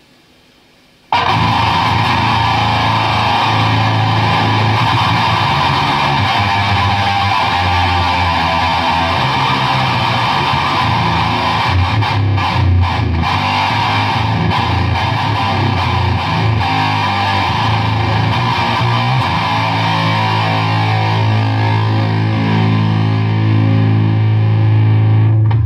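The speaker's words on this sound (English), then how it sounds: "we're going to try the Eyemaster through the distortion channel on my Marshall amp" An electric guitar runs through a TC Electronic Eyemaster pedal into the distortion channel of a Marshall amp at zero gain and full volume: a thick, continuous wall of saturated distortion for over twenty seconds, loud and close, with sustained chords.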